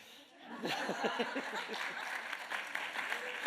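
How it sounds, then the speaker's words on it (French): Lecture audience begins clapping after a short pause, swelling into moderate, somewhat hesitant applause mixed with chuckles and a little laughter. "vous pouvez applaudir, c'est bien"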